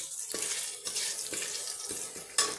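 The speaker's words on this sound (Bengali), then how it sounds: "আদাটা আমি এই মানে তরকারির জন্য খুব বেশি ভাজবো না খুব সামান্য ভাজবো" Ginger fries briefly in mustard oil with fenugreek and black mustard seeds, giving a steady bright sizzle broken by a few soft stirring knocks, heard close and alone.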